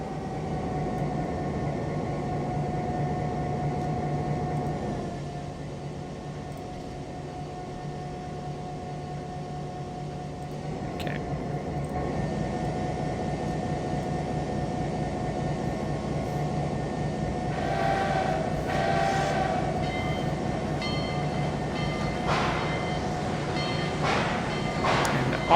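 A train rolls along steadily in the Trainz 2022 railway simulator during shunting work, a continuous mid-loud rumble with a steady tonal hum, brief squeals and clanks breaking through toward the end.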